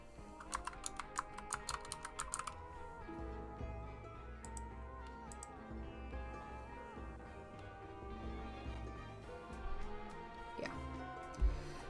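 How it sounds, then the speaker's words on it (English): Computer keyboard typing while searching for eco-lifestyle custom content in Sims 4, with clustered key clicks in quick bursts early on, then softer scattered taps over a steady background hum. "I wonder if I type Ravishing eco,"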